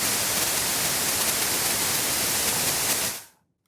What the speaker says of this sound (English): I just changed this to white noise, and I'm going to play that same middle C.